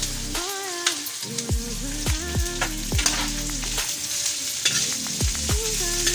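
Gulaman being stirred in a cooking pot, with a steady scraping and swishing texture over a continuous sizzle-like hiss, repeated strokes at a moderate rhythm, close and fairly loud, no voices.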